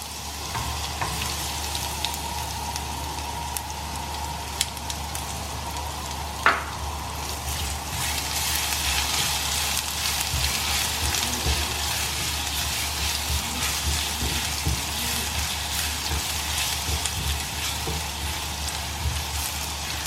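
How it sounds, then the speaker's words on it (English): Spices fry in hot oil while being stirred, giving a loud, continuous close-up sizzle with a few scraping stir sounds and one sharp clink, and no voices. "Just stir it till all the spices release this beautiful aroma."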